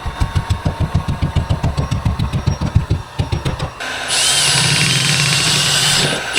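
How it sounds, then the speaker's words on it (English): Power drill driving screws into fastening holes during a DIY bathroom renovation, heard as a rapid pulsing burst of motor whirs and then a steady, loud continuous whine. "I'll see what I can do about getting a screw into some of these fastening holes"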